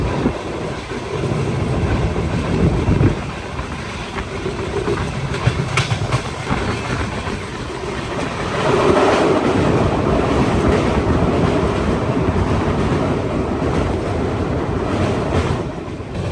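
The North East Express rolls through Assam with a steady loud rumble and faint clickety-clack of wheels, wind roaring past an open door, swelling midway.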